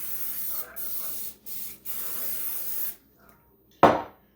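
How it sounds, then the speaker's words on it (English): Bursts of cooking spray hiss steadily over an oven rack before chicken wings are laid on it, with brief pauses between sprays, then a short clatter of the metal rack at the end. "you want to spray that rack down good"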